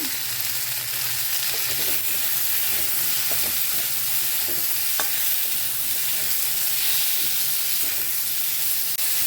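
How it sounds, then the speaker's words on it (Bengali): Cauliflower and potatoes fry in a pan with a constant close sizzle, while a spatula stirs and taps intermittently over the hiss. No one speaks. "লাল লাল করে ফুলকপি আলুগুলো ভাজবো"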